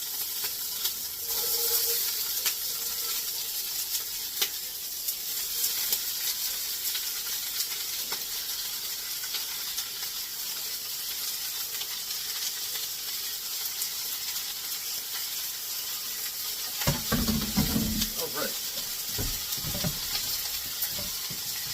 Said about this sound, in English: I'm going to take just a little bit of oil to just make the pan a little non-stick. I mean, this is cast iron